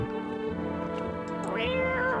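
A cat meows in a video game, a drawn-out rising cry over steady game background music, close and fairly loud, with no talking.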